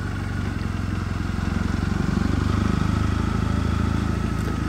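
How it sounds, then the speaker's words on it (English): Triumph Bonneville motorcycle engine turning over at low revs on a mountain pass road, a steady loud close rumble with a throbbing beat that swells slightly midway, no talking. "keep the revs nice and low"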